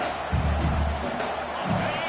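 Stadium crowd noise in a college football video game, Cal vs Texas online dynasty: a steady roar of cheering throughout, swelling in low rumbling surges, with no talk.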